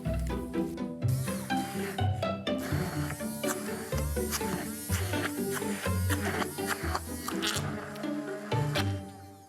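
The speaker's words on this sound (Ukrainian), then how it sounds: "І все перетворюємо на однорідну масу за допомогою блендера." A loud, steady motorized whirring from a blender mixing chocolate cheesecake batter, its buzzing pitch rising and dropping as it churns, running almost without pause.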